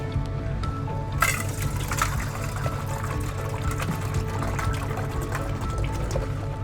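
Partly frozen water pours steadily from a container during winter camping outdoors, a continuous liquid gush close by over a low background rumble, without speech.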